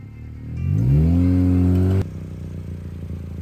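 A Pontiac G6 car engine revs hard and loud during a burnout, rising to a steady high roar for about a second and a half, then dropping abruptly to a lower, rougher idle-like drone.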